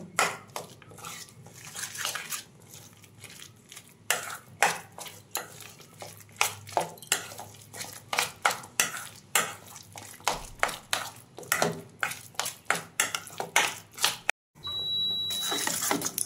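A spoon stirs a semolina batter with vegetables in a bowl, making repeated rhythmic scraping and clinking strokes, close and fairly sharp, with a short pause near the end.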